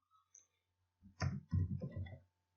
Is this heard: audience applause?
no